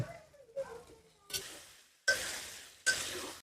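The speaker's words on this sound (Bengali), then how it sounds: "এখন আমি ভাজা মাংসটা দিলাম দিয়া কষাইম" Fried meat being stir-cooked in spiced oil for a meat and bean curry sizzles in short, fairly faint bursts, each one flaring up as the pieces are stirred and then fading.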